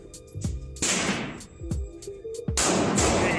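Gunfire at an outdoor shooting range, with two sharp, loud reports cracking out about two seconds apart amid faint background noise.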